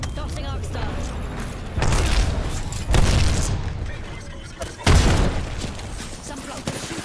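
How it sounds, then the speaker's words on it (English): An Arc Star grenade goes off in Apex Legends amid a firefight: several loud booming bursts at irregular intervals over crackling gunfire and game noise, with a voice talking in places. "Arcstar out! Tossing Arcstar!"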